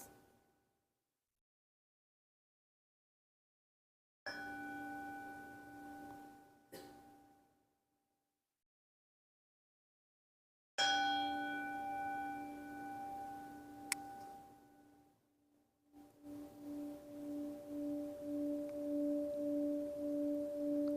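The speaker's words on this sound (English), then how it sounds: "I'm going to sound the bell 3 times." A meditation bell is struck three times during a quiet mindfulness session, each clear ringing tone sustaining and slowly fading into near silence before the next strike.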